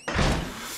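A door closing in the Outlast horror video game, one heavy, close thud with a booming low body that decays over most of a second, alone and loud.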